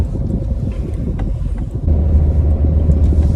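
A Suzuki Jimny JB74 idling at tick over while crawling off-road, its low engine rumble close and steady under wind buffeting, deepening into a stronger drone partway through.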